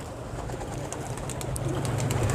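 Pigeons coo softly in a large aviary, low repeated calls layered over a steady background hum with faint higher chirps.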